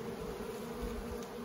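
Honey bees buzzing at a crowded hive during a nuc install, a dense steady hum from many bees, close and continuous with no talk.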